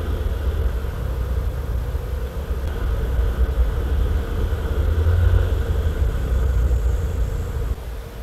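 A motorcycle descends a hill road near Ipo Dam, engine braking in gear. A steady low engine drone mixes with wind noise and holds throughout, with no talk.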